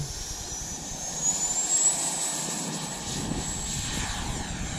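A Freewing F-22 Raptor 90mm EDF RC jet flies with a steady high-pitched ducted-fan whine and broad rushing roar, continuous at moderate distance, swelling briefly then holding.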